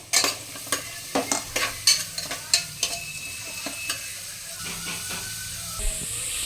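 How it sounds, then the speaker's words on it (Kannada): Onion frying in a pan, with a steady close sizzle and hiss overlaid by repeated sharp scrapes and taps of stirring spread through the whole stretch. "ಈರುಳ್ಳಿ ಸ್ವಲ್ಪ ಫ್ರೈ ಆಗಿದೆ"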